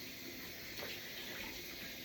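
Water running from a tap while a jug is rinsed during blackberry mead making, a steady faint splashing hiss with a slight swell near the middle.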